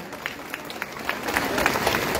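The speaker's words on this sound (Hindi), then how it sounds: "तालियां बजती रहनी चाहिए।" A crowd at a Congress party canvassing gathering in Belgaum applauds, a dense, continuous clapping that swells slightly over two seconds, with some voices mixed in.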